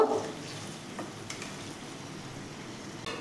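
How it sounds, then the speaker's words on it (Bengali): Okra curry with mustard powder gets stirred in a pan, a faint soft scraping and quiet sizzle with a few light utensil clicks against the metal. "তারপর এর ভেতরে আমি সর্ষে গুঁড়ো দিলাম, দিয়ে এটাকে ভালো করে মিশিয়ে নেব।"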